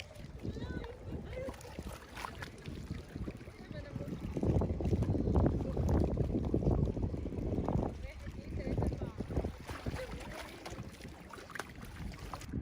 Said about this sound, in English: So it is obviously windy at the lake, so don't mind that.